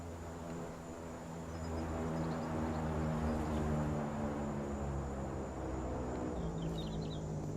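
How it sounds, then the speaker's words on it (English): An airplane drones overhead for a supply drop in the game 7 Days to Die, a steady low hum that swells slightly and then fades over several seconds, with faint insect-like chirps in the background and no speech. "Oh, I heard an airplane. That's a supply drop."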